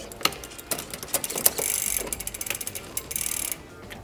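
Clicks, whirs and ratcheting from a bicycle drivetrain being shifted by a SRAM Eagle AXS electronic derailleur in a workshop, a series of crisp mechanical clicks with a steady buzzing run in the middle, close and alone.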